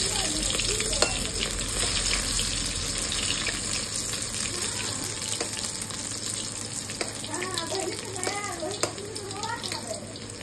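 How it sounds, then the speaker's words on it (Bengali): Eggplant slices coated in turmeric and salt frying in hot oil, a steady close sizzle and crackle running throughout with faint clatter, no voices. "তেল খুব সুন্দর গরম হয়ে গেছে, এখন বেগুনগুলো সবগুলো এক এক তেলের মধ্যে দিয়ে দেবো"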